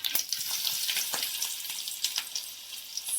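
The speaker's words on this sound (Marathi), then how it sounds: "फोडणी चालू आहे बघा." Spices sizzling in hot oil for a phodni tempering, a close, bright, continuous crackling hiss with small spitting pops and no talking.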